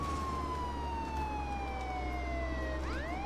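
A wailing police siren from the Contraband Police video game sweeps steadily downward in pitch, then rises again near the end. It sounds loud and continuous over a constant low engine rumble, with no talking.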